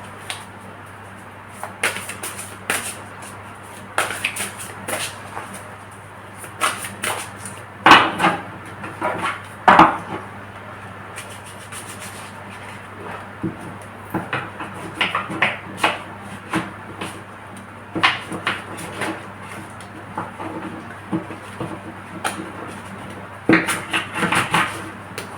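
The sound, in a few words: shuffling tarot cards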